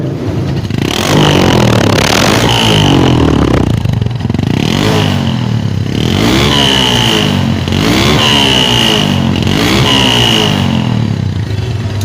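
An original, unmodified motorcycle engine revs loudly and repeatedly, rising and falling in pitch over a constant rough idle, very close.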